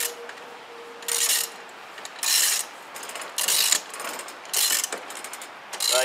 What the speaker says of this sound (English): now you just crank it up.